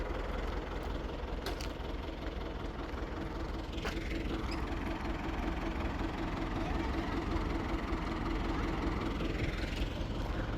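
A tractor engine runs continuously, a dense low rumble with steady mechanical noise that stays even throughout, close and fairly loud.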